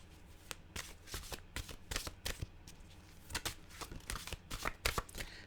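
A deck of cards is shuffled over and over close by, its crisp riffling bursts and snaps running in a steady, uneven stream with no talk.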